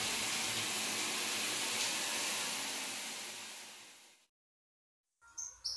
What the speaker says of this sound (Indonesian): walaupun keran wastafel tetap menyala